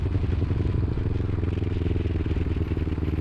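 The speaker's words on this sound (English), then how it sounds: "Flip on my turn signal, downshift, brake, and roll." Motorcycle slowing down while downshifting and braking: a close, throbbing engine rumble with a pulsing, uneven beat that keeps going for a few seconds.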